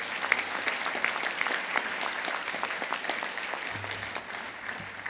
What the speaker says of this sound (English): Can we give Professor another round of applause